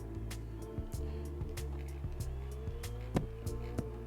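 Motorcycle engine in an Isle of Man road-racing video game, cruising along: a steady, loud low drone with layered harmonic bands and brief bumps, continuous throughout with no talk.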